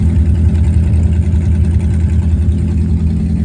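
A Cockshutt 555 tractor engine runs steadily after a cold November start, a low rumbling idle with an even chugging pulse, close and continuous, with no voices.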